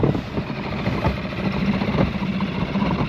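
An outboard boat engine drones steadily at close range during a boat launch, a continuous rumbling hum with no pauses.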